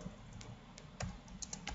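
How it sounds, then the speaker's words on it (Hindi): Fingers tapping a computer keyboard, a few quiet irregular key clicks spaced out over faint room noise, no speech. "जस्ट हमें गूगल में टाइप करना है"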